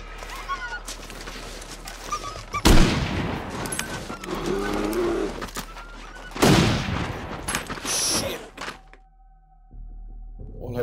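Gunfire in The Long Dark: two loud, sharp rifle shots roughly four seconds apart, each with a long ringing decay, followed by a quieter stretch and a faint tone.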